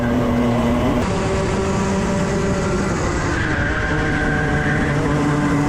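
Club100 junior racing karts at Buckmore Park scream along the track, a steady loud engine whine with shifting pitch as the kart holds throttle and other karts run nearby.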